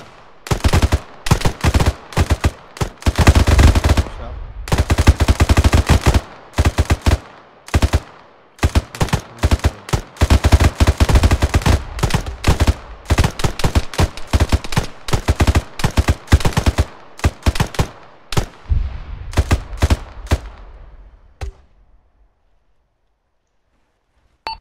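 Dense gunfire in Arma 3 during a co-op firefight, sustained automatic bursts and sharp single shots crackling nearly nonstop, loud and close, before trailing off into silence at the end.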